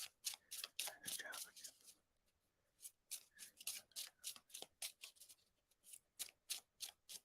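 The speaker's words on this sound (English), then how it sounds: "I'm going to shuffle a new deck." A tarot card deck is shuffled by hand in quick, crisp riffles and soft slides, repeating in rhythmic bursts with short gaps, close and faint.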